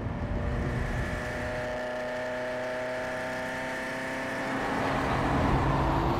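A Ferrari supercar held in third gear: a steady, droning engine note with clear harmonic tones that swells louder toward the end as the revs climb, heard alone without talk.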